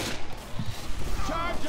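Assault rifle gunfire in the video game Left 4 Dead 2, rapid muffled shots and booms tumbling over each other in a brief burst, mixed under game noise and a voice speaking.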